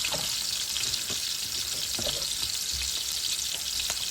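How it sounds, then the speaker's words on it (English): Onions hitting a hot pot of oil for egusi soup, a bright continuous sizzle with a few stirring knocks and scrapes, close and steady throughout. "So let's toss the onions in."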